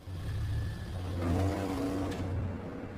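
A car engine revs steadily in a film scene, a continuous mid-level rumble that swells slightly and then holds, with no talk over it.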